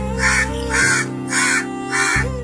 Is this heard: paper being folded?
no